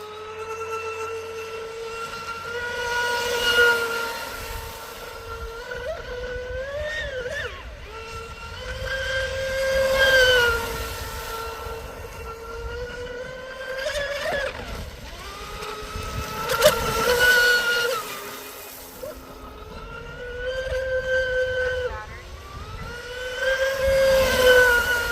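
An Oxidean Dominator FPV drone on 8S power at full throttle, its motors producing a loud, continuous whining buzz that repeatedly rises and falls in pitch as it swoops past, alone without speech.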